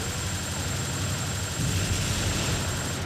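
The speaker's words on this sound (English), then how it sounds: "Can I get the helicopter down in time?" Helicopter in the video game TimeSplitters, a steady rotor-and-engine drone with a deep low rumble that holds without a break for the whole stretch, with no voices.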